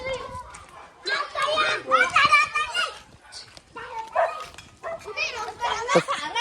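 A dog barks in short bursts in a village lane, close by, mixed in with lively children's voices and shouting.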